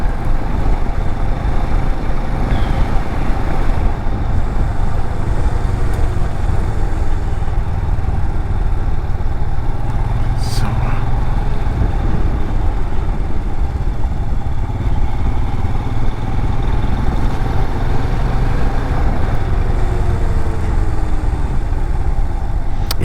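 A Royal Enfield Himalayan motorcycle rides in fourth gear through a slow bend, its engine holding a steady low thrum with constant wind rush, loud and close for the whole stretch without shifting.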